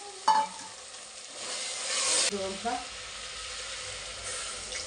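Chopped ridge gourd tipped into a pan of frying tomatoes on the stove, a soft thump and rustle followed by a rising sizzle, then lighter stirring sounds that settle into a low steady fry.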